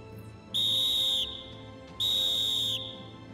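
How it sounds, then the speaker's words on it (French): Two long, loud, piercing whistle blasts, each lasting under a second, ring out close by in a blasting zone in French Guiana as a warning before a fuse is lit, with a low background rumble between them. "Avant la mise à feu, 4 coups de sifflet bref."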